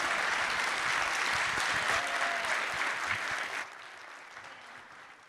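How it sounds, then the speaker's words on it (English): Audience applause at a State of the City 2024 event, greeting four young people; steady dense clapping from a large crowd that drops off sharply near the end, leaving a quieter tail. "Round of applause for these four young people."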